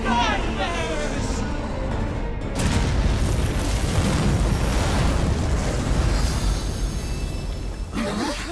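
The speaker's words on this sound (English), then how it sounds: "It's Excavalion's cannon!" A heavy, sustained cannon blast in Granblue Fantasy Relink rumbles loudly for several seconds, with voices before and after.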